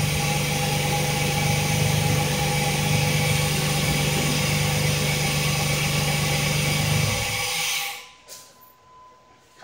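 A 2006 Jeep Liberty engine with a misfire on cylinder number 4 runs steadily up close with a loud, even drone and hum, then shuts off near the end, leaving faint rustling and a brief final thump.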